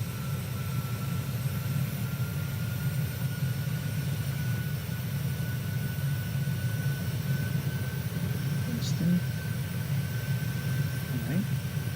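Simulated PMDG Boeing 737-800 jet in flight in Microsoft Flight Simulator 2020, a steady low engine drone with a faint whine above it, continuous and unchanging throughout.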